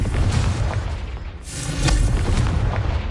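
A Confringo spell blast in Hogwarts Legacy gives a loud booming explosion with a dense rumbling roar, swelling again about halfway through and sustained to the end, heard alone.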